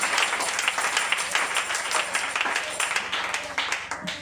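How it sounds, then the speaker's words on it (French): Church congregation at a French-language Thursday morning prayer service clapping and cheering in praise, a loud, continuous flurry of hand claps with rhythmic peaks throughout. "Acclamons très fort Jésus."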